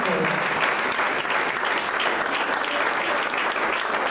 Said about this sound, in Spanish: por eso dale el aplauso, porque Él es digno